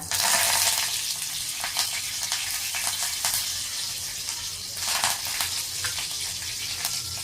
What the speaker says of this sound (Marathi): तेल गरम झाले तर आपण त्याच्यामध्ये आता मोहरी टाकूया जिरे टाकूया